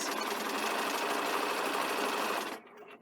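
A sewing machine stitches a front placket band at 5/8 inch seam allowance, running in one close, steady whirring burst for about two and a half seconds before stopping abruptly.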